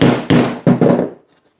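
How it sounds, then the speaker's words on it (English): A heavy hammer strikes a punch through a leather belt on a cutting mat, four sharp thuds in quick succession, close and loud, then the sound dies away into silence. "So quite a heavy hammer that you use."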